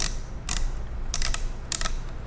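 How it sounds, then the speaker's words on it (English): A welded bead on the back of a reverse-threaded castle nut grinds against the threads as the nut is unscrewed from an HDM 1050 barrel. Close, scraping ratchet-like bursts repeat over a low mechanical rumble. "That grinding sound you hear is the bead that's welded to the back of the castle nut."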